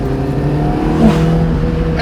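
An Alfaholics GTA-R 290, a modified Alfa Romeo, driving with its engine running at a loud, steady drone and strong low tones, heard from close by inside the car.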